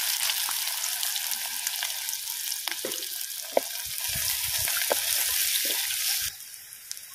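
Onion and fenugreek seeds frying in hot oil for a fish curry tempering, a steady close sizzle with occasional stirring scrapes that drops to a quieter hiss near the end.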